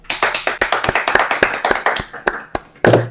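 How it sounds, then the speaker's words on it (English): A few people clap for a speaker at an online Doom Emacs conference: sharp, close, uneven hand claps in a quick irregular run that thins out toward the end. "So everyone, give a hand to Steve."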